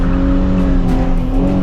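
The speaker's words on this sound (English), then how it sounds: "Oh yeah, so that was second gear and it's sliding." A rear-wheel-drive sports car slides in second gear on a wet road, with a steady, close engine drone and a faint hiss of tires running continuously.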